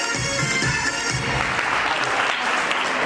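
An audience at a network marketing company training in Haridwar gives loud, sustained applause for a woman, a thick continuous wash of clapping with a few low voices blended in near the start.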